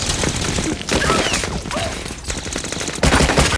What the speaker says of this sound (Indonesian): rumah itu pun langsung diberondong tembakan ke segala arah